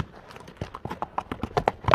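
Horse hooves clip-clopping in a quick, steady rhythm, close and fairly loud, the beat growing sharper toward the end; the horse is a light Kyrgyz horse at an ulak event, with no speech over it.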